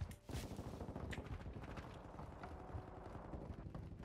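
Dense gunfire fills an online match of Call of Duty: Modern Warfare II. Rapid rifle shots and bursts rattle on almost without a break and stay fairly loud and busy from start to finish.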